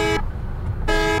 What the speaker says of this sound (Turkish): Şöyle bir kornası var.